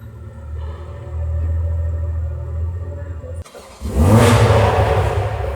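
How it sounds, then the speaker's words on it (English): An idling Toyota Supra rumbles low, then a sudden loud exhaust blast and rev roars up close through a GTHAUS exhaust with catless downpipe, staying aggressive and throaty to the end. "that is GTHAUS exhaust with the catless downpipe. Insanely loud."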